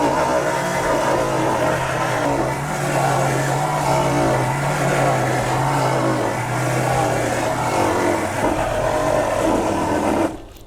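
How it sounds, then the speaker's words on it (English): A Coleman mini bike roars through a burnout, its small engine revving hard and continuously at close range with a gritty, droning tone before cutting off abruptly at the end. "Let's go see if this thing can do a burnout, and let's ride this thing."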